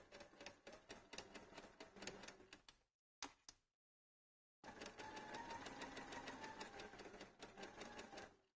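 A sewing machine runs in rapid, even bursts while stitching two layers of folded T-shirt fabric, pausing briefly before starting up again for a longer steady run.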